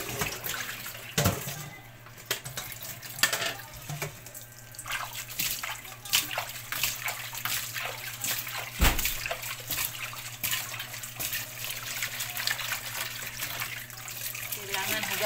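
Dishes are rinsed and scrubbed under a running tap, a continuous splashing stream broken by clinks and knocks from the dishware, with voices faintly present at times.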